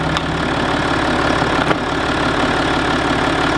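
Range Rover Sport engine idling steadily up close, a continuous even drone with faint ticking and a brief knock partway through.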